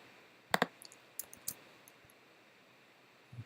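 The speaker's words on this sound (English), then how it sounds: "click between the tabs, right click and paste" A few sharp computer mouse clicks, close and dry: a quick double click, then scattered single clicks, with quiet room tone between.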